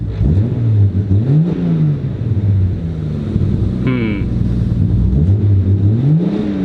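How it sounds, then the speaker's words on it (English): A Toyota Supra engine with a fault revs twice, rising and falling in loud swells close by, and a brief higher whine in between. "usually when I rev the car, so we'll see what it does"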